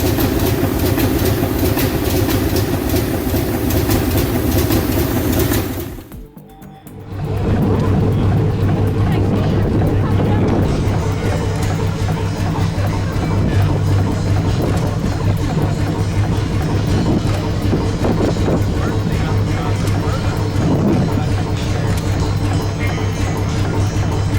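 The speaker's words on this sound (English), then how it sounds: "that deep mechanical growl fills the air" An old engine runs with a deep, loud mechanical growl, a steady heavy drone that briefly drops out for about a second near the six-second mark, then resumes.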